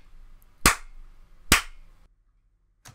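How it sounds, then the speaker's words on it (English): Two sharp hand claps about a second apart, loud and close in a quiet room, with a faint third clap starting right at the end; they are made to sync audio. "it's just me clapping my hands just to sync things up"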